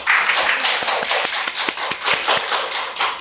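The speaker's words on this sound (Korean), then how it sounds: "박수 칠 타이밍을 뺏었네요, 제가. 다시 한번 칠까요?" A small audience at a Korean high-school admissions seminar at a math academy breaks into brisk applause, a dense patter of close claps and slaps lasting a few seconds, with no voices over it.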